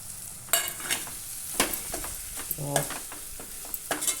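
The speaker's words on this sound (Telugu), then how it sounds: "ఇప్పుడు ఇందులో గుడ్లు వేసేయాలి." Eggs fry in a pan with curry leaves for a spicy garlic egg fry, giving a close sizzle broken by sharp scraping and stirring strikes at an irregular rhythm.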